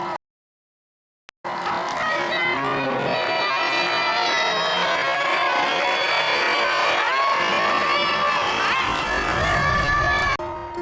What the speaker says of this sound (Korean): 방청객분들만 환호를 하고